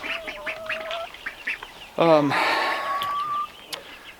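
Loud, harsh squawking calls from nearby chickens, one rapid burst of cackles in the middle, with a person speaking softly before it.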